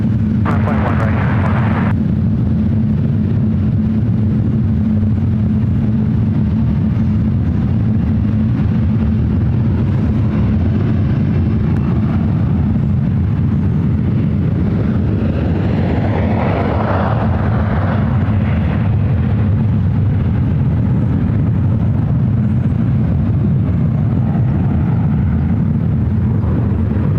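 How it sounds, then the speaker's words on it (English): An American Airlines Airbus A321 jet at San Francisco airport roars loudly and steadily, a dense low rumble with broadband whoosh that holds for the whole stretch. "American Airlines flight 179 coming up from JFK. It's an A321."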